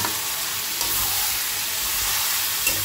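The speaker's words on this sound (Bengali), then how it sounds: "এটাকে জাস্ট একটু জলটা একটু মুজিয়ে কষিয়ে নেব।" Salad vegetables (apple, tomato, chilli) sautéing in a pan for egg curry, a steady broad hiss of frying with occasional soft stir clicks, close and constant.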